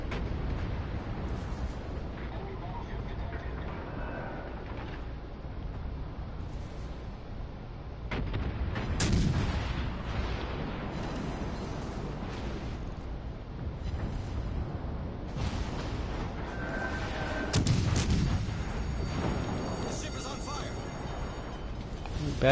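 Gunfire and explosive booms from a PS4 naval battle game, broadband blasts recurring irregularly over a steady din, with loud bursts around the middle and late in the stretch, mixed under ongoing talk.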